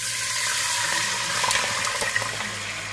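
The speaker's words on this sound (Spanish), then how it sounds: "Ahora le vamos a echar agua." Water pours steadily from a tap into a pan of meatballs for a Spanish sauce, a continuous close splashing rush with no talk over it.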